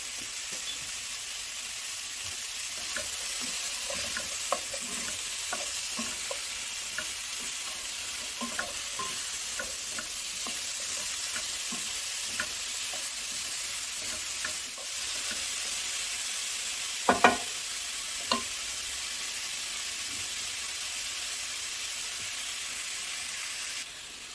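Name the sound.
smoked sausage sizzling in skillet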